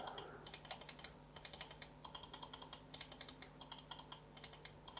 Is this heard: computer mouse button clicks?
yes